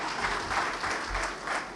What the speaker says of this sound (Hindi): जोरदार तालियां उन लोगों के लिए